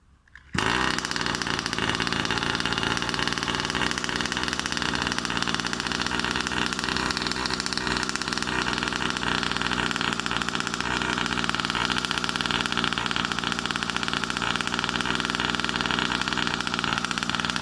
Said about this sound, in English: Just going to heat up the motor first, just give it a slow lap, and then I'll give it a good bashing.